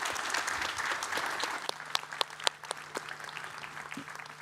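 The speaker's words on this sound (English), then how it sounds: "Ladies and gentlemen, a huge round of applause to this fantastic panel." An audience applauds a political panel discussion on Ukraine's NATO membership, a dense patter of clapping hands with a few sharper claps standing out, heard at moderate distance and fading slightly toward the end.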